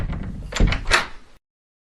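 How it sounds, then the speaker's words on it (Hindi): A door being opened, a short run of wooden creaks and knocks ending in a solid thunk, close and loud, followed by silence. "ये दरवाजा कैसे खुल गया?"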